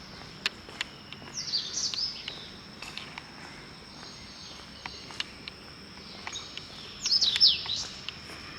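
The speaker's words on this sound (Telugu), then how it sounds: "మంచి మంచి కుక్కు రావాలి" Birds call in two short, bright bursts of chirping, separated by a quieter stretch, with crickets trilling softly throughout and a few faint footsteps.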